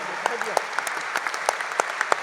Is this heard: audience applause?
yes